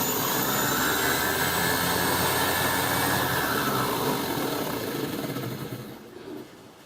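Electric motor of an RC drag bug with a 31-tooth pinion spinning on a dyno: a loud, steady high-pitched whine with a broad rushing roar that holds, then gradually winds down toward the end.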